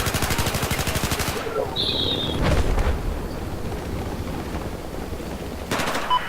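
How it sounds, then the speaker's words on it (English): Rapid automatic weapon fire from the video game Battlefield 4 rattles in a dense, fast burst at the start, then gives way to scattered distant shots and a brief electronic beep over continuous battlefield ambience. "This weapon has a fairly high rate of fire."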